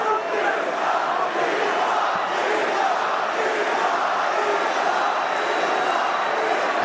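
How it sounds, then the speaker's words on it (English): A large arena crowd at a UFC bout between Islam Makhachev and Jack Della Maddalena chants for Makhachev, a loud, dense, steady roar of massed voices that holds unbroken for about seven seconds. "the Islam chants rain down"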